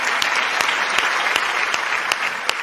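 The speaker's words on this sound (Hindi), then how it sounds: "और ताली अभी भी कमजोर है आपकी" An audience at a Hindi poetry gathering in Kanpur applauds steadily, with a thick spread of clapping and a few louder individual claps standing out.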